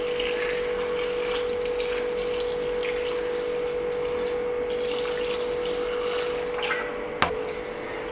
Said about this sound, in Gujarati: આ મરચાંને પાણીથી ધોઈ અને કોરા કરી લેશું